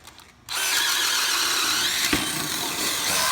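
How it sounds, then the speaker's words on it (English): A DeWALT DCD996 second-generation brushless 3-speed drill spins up abruptly and runs at a steady high-pitched whine close by, holding speed without bogging down for about three seconds. "you don't hear the drill slowing down at all"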